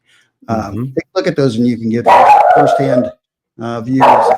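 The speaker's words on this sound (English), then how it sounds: "Sorry about the dog." A dog barks in the background of an online designers' talk show, the bark mixed into steady, close conversation and partly masked by the voices.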